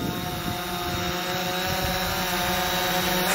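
A drone's electric motors and propellers spin up into a steady, close, high-pitched whine with a low droning hum underneath, holding even and loud the whole time.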